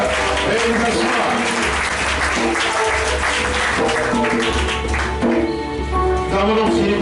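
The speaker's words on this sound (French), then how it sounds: "acclamons le Seigneur et nous asseoir" Congregation applauding at the close of a church service, loud sustained clapping from a crowd with music and voices mixed in, continuous for the whole stretch.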